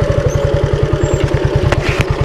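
A Suzuki Intruder 250 chopper motorcycle engine runs close and loud, its rapid thumping pulses steady, with a bit of mechanical clatter.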